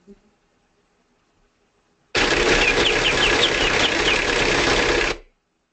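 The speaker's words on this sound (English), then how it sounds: "we can hear that bird whistling in the background of the engine noise" A bird whistles a quick series of chirps over a loud, steady engine drone that starts abruptly, runs for about three seconds, then cuts off.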